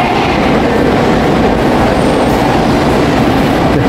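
A Busan Metro Line 2 subway train at Suyeong Station rumbles loudly and steadily, with a dense roar of wheels on rail, faint clatter and a slight squeal throughout, close by and with no talking.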